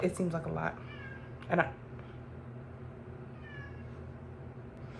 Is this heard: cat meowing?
yes